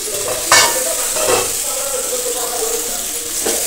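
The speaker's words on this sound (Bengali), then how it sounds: "এবার আমি খুব সুন্দর করে নাড়াচাড়া করে আলু কিছু সময় ধরে কষিয়ে নেবো" Softened potatoes get stirred and sautéed in an oily pan, a loud close sizzle broken by a few scraping spatula strokes, no voices.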